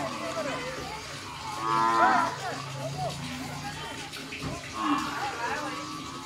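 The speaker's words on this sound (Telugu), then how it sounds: "ఆవులు" Cows moo at the Suryapet cattle market, where buffalo are also sold: two drawn-out, moderately loud calls rise over busy crowd chatter and people talking nearby.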